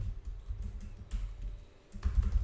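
Keys on a computer keyboard tapped in short irregular bursts while a database name is typed into SQL Server, with close, soft clicks over a low background hum.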